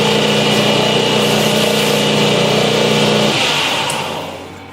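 Steady, loud electric grinder whine while a pocket knife pivot pin is ground down on a Sabre Ireland gentleman's knife, holding constant for several seconds and then winding down near the end, with no voices.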